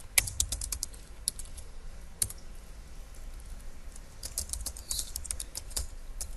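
Rapid clicking on a computer keyboard as product tags are typed for an online craft store, a steady run of close keystrokes with small pauses and a few louder clacks, with no talking.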